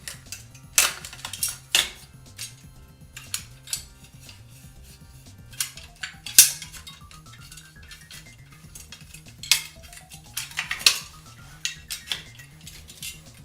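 Sharp clicks and clinks of handling a plastic tube and metal gun, with a couple of rising ratcheting slides, over a steady low hum.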